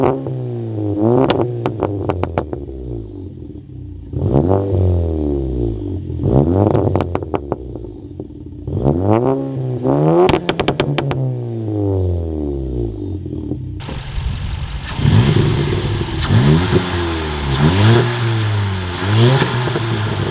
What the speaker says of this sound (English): this TPC-20 uses some Garrett internals, this thing, it makes some nice spoolie noises